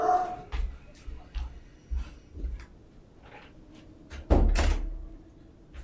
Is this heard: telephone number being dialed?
no